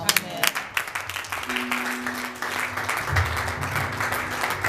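Church congregation applauding during a service, steady crowd clapping carried along with singing or a spoken voice over it, fairly near and moderately loud throughout.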